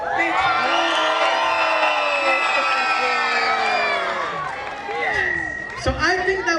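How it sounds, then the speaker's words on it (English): Outdoor crowd at a Toronto values walk cheering, whooping and screaming on request, a loud sustained roar of many voices with high shouts, easing slightly near the end before fresh yells. "Can y'all make some noise? Make some noise. Clap, scream. Make some noise."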